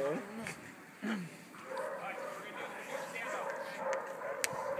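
A military attack dog yelps, whimpers and barks in short bursts at close range while people talk and shout nearby.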